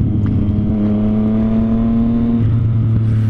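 A car droning past on the road, a loud sustained engine tone that shifts pitch midway as it goes by, with constant road noise throughout.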